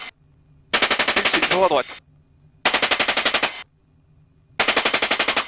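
Sustained machine-gun fire from a Tiger attack helicopter in a combat video game, three loud rapid bursts of about a second each separated by pauses, with a brief spoken callout between them.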